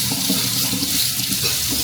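Water runs steadily from a tap or pouring vessel to water a planted seed, a continuous close hiss that fills the whole moment with no voices.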